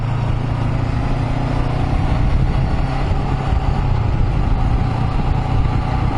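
A motorcycle engine drones steadily while riding, a constant low rumble mixed with wind noise, loud and close with no talking.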